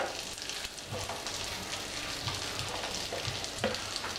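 Crumbed chicken breast fries in a pan with a steady broadband sizzle, broken by a few soft thumps and scrapes as the pieces are moved around; no one speaks.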